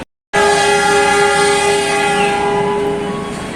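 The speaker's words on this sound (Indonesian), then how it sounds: "kereta api Wijaya Kusuma diberangkatkan dari stasiun Pasuruan" The Wijaya Kusuma passenger train departs Pasuruan station with a loud, sustained horn blast that starts abruptly after a brief silence and holds steady for several seconds, fading only slightly.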